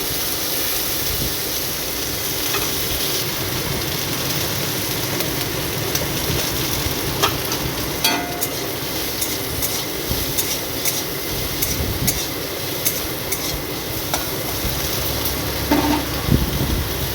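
Okra frying in a pan for a Bengali home dish, giving a steady, close sizzle throughout with occasional faint stirring clicks and scrapes, no voices.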